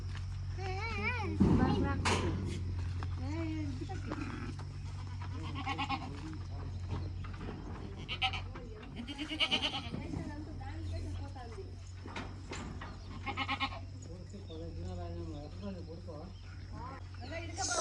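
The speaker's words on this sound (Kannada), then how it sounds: "ಕುರಿ ಈಗ ಅಲ್ಲಿ ನೋಡು" Sheep on a farm, bleating intermittently in a wavering, nasal way at middle distance, with people talking over a steady low hum throughout.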